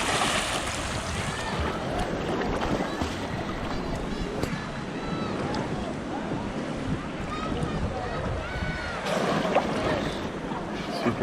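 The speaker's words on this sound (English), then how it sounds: "Super clear, nice waves coming in." Ocean waves wash in steadily at Winnifred Beach, Portland, Jamaica, with a constant rush of water and wind noise, while people talk nearby.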